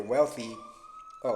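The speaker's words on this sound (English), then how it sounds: "excuse the sirens." A police siren in a Philadelphia street wails as a steady held tone between bursts of a voice talking indoors, fairly faint and distant in the background.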